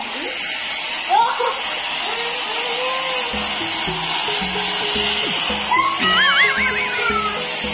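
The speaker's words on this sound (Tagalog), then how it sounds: "Gagamit kami ng hair dryer para mas maganda kasi ito yung tuyo bago natin ilagay sa air fryer." A hair dryer drones steadily at close range, drying pork before it goes into an air fryer, while people talk over the constant whir.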